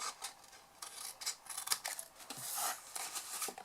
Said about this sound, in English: you're going to cut away the concertina middle bit just there